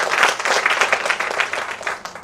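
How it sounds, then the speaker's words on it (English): Audience applause at a children's book release event, for Dr. Qureshi: a dense, steady wash of many hands clapping throughout, fairly loud and close, with no talk over it. "So let's give a huge round of applause for Dr."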